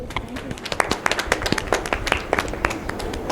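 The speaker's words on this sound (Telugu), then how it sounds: "So please claps for that." An indoor audience at a college reunion claps for a few seconds, a dense burst of many hands at moderate distance with faint voices mixed in.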